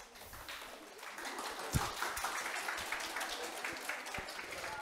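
Applause from a classroom audience at a real-estate agent exam prep lecture as the professor starts, a steady patter of many hands clapping at moderate distance, continuous for several seconds with one sharper clap standing out.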